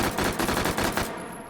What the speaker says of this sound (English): Moving on to 3-round burst, pistol style.